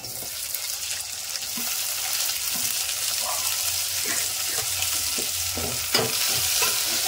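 Onion and tomato fry in a pan while being stirred for a moong dal sambar: a loud, continuous sizzle with repeated spoon scrapes and a sharper clatter near the end, with no talking.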